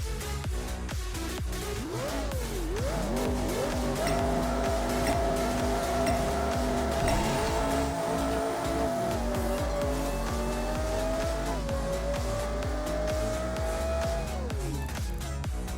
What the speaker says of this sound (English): Here is a quarter-mile run.